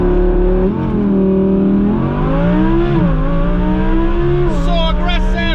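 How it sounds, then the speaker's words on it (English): An Audi R8 V10 Plus with all-wheel drive launches from a stop, its engine roaring loud and close as it climbs through several quick upshifts, each pitch rise cut by a brief dip. "That's the fastest acceleration I've ever experienced from a dig."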